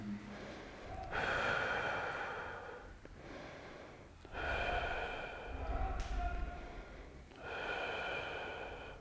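Steady, audible breathing during a neck stretch: three long, slow breaths with a soft snorting edge, heard close and even, each followed by a short pause.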